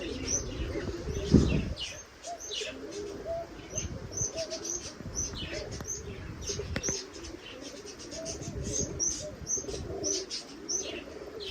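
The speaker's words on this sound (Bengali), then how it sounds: "মাঝখানে কিন্তু এটা ঘুঘু পাখি সাদা যেটা এটা হচ্ছে ঘুঘু পাখি আর এই দুইটা হচ্ছে দুই পাশের কবুতর" Soft pigeon and dove coos repeat over a chorus of chirping birds, with a brief rustle of wings near the start.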